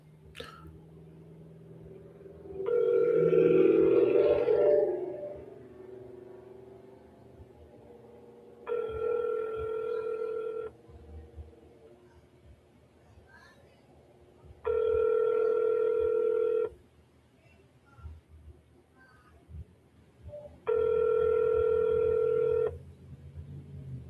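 A telephone call rings out before reaching voicemail: four evenly spaced ringback tones, each lasting about two seconds, heard clearly over a quiet background.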